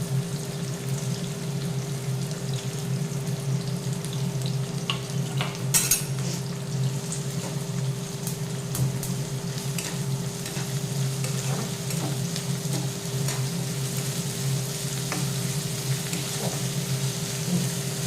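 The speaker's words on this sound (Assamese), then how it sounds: "এতিয়া তেলখিনি গৰম হ'ল, এতিয়া মই এয়া কাটি থোৱা পিঁয়াজখিনি দি দিম" Chopped onions frying in hot oil for a chicken curry, a steady close sizzle with occasional stirring and utensil clinks and a faint hum underneath, no talk.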